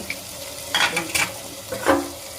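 Mutton pieces frying in oil in a pan for a Bengali mutton curry with papaya, a soft steady sizzle with a few brief stirring scrapes close by.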